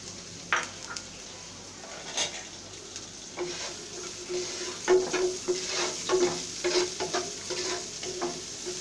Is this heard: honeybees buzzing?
no